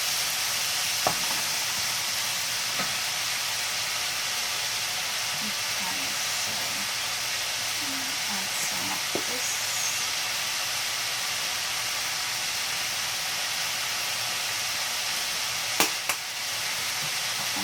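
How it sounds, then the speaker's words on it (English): Seasonings sizzle steadily in a pan while cooking vegetarian loaded quinoa, a constant close hiss broken by a few faint scraping stirs and small pops, with no talking. "seasonings always taste better when they fry a little bit"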